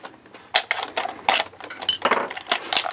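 Small screwdriver kit with several tiny bits being unpacked: a close, irregular series of sharp plastic and metal clicks, rattles and clinks, with no talking.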